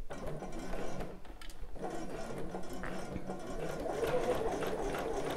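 Sewing machine slowly stitching a bra seam, a soft continuous mechanical whirr and rapid needle ticking at a near, low level, with faint handling noises throughout.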